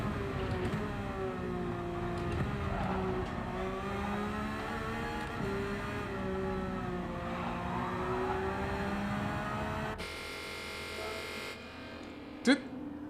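A Porsche 911 race car engine in Gran Turismo 7 drones and revs steadily with shifting pitch, joined by a brief sharp effect near the end.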